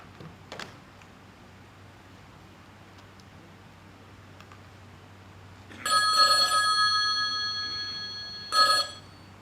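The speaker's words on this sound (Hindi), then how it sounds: "वित्त मंत्री को फोन लगाओ" A telephone rings indoors while an official's call to the finance minister is placed, two bursts of bright electronic ringing in a quiet room after a soft click.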